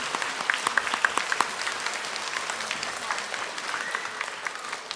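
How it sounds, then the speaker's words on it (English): Applause at an elementary school end-of-year assembly, a crowd of students and adults clapping for the staff in a steady, moderately loud patter with distinct claps standing out early on. "we give them a round of applause too"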